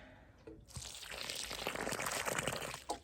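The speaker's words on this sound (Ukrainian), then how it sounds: "Поливаю водичку." Water pours onto soil over newly planted lily bulbs, a soft, steady splashing that starts after a brief pause and runs quietly for a few seconds.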